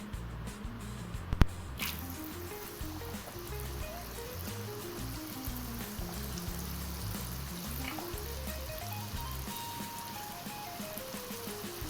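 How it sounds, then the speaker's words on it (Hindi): Corn kernels frying in hot oil, a steady close bubbling sizzle throughout with a sharp pop near the start, while music plays in the background. "अब कॉर्न के डालते हैं, कॉर्न को फ्राई होने के लिए।"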